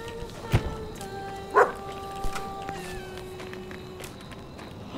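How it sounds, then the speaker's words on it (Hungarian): A dog in the Maid of Sker horror game gives a couple of short, separate barks or yips, a second apart, over a quiet ambient background. "Kutyus!"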